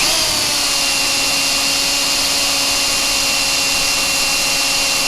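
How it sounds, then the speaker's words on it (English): Power drill boring out a hole in a metal rail, a loud, steady high-pitched whine held continuously without pause. "We're gonna drill this one out right quick."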